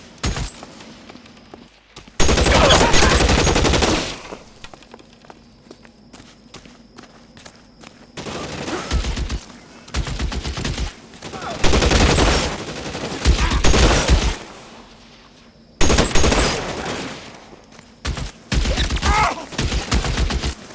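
Bursts of gunfire in L.A. Noire, loud dense volleys in several clusters separated by quieter gaps, with thuds and movement between them and no clear talk.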